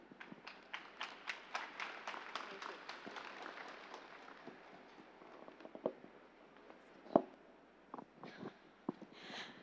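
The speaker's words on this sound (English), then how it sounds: "A big round of applause to all these young musicians, come meditators." An audience gives a round of applause for young musicians at a music and meditation festival. Scattered claps come first, then fade into sparse taps and knocks at low volume.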